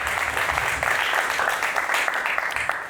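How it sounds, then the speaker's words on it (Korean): Audience applause at a fathers' parenting talk concert, a steady wash of clapping throughout that holds even and fairly loud from start to finish with no voices on top. "박수 한번 주세요"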